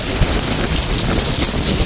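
Heavy rain pours down steadily over a village, a dense, continuous hiss of drops drumming on surfaces with no break, loud and close throughout.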